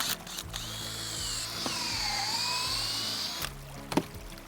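Cordless power drill pre-drilling a timber beam for a stream-crossing bridge built from natural materials, a close whining spin-up that bogs slightly as it bites into the wood, then stops, followed by faint clicks.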